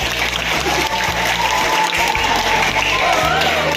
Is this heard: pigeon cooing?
no